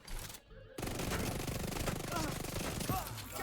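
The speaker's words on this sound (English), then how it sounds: "Mr. Shotgunner, please shoot me" Enemy shotgun fire in The Division 2 video game: a dense, sustained burst of loud gunfire and game combat noise follows a brief drop to near silence, with some voice mixed into the clamor.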